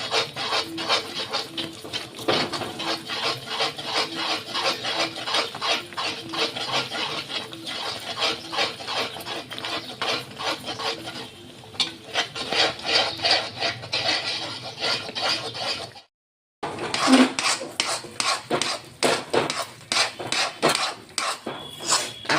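Mysore pak mixture of gram flour and oil stirred in a pan, making fast, steady rhythmic scraping strokes close by with one short pause near the end.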